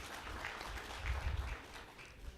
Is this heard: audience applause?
yes